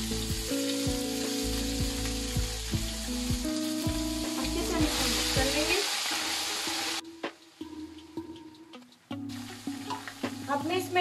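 Garlic and crushed ginger frying in a pan for a mixed vegetable sabzi, a loud sizzle and spatter with a voice talking over it, then quieter frying with scattered pops.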